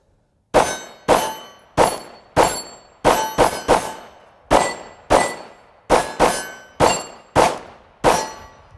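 Glock 19 pistol fired at steel targets: about fourteen loud, sharp shots with metallic ringing, in an uneven rapid rhythm with brief pauses, close and alone with no talk.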